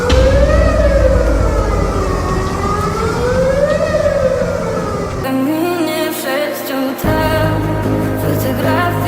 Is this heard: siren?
yes